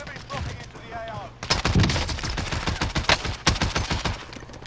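An Oden assault rifle in Call of Duty fires in a fast string of loud, punchy shots after a brief lull, each one heavy and close, with someone talking just before the burst.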